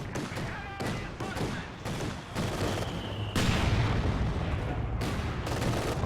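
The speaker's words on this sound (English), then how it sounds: "he may be about to lose this Vet 3 pack if a few more of those mortar shells land" Company of Heroes 2 battle with mortar shells landing as repeated heavy thuds and booms over dense gunfire, getting louder and denser partway through, with occasional talk.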